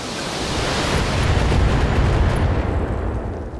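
An enemy vehicle destroyed by weapons fire in the video game Battletech, a loud sustained rumbling explosion roar that fills the moment before slowly easing off.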